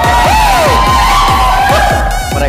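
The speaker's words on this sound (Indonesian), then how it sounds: "Mereka teriak semua guys." An aerobics class of many participants shouts and cheers together in a loud, sustained burst over pounding upbeat workout music with a steady beat.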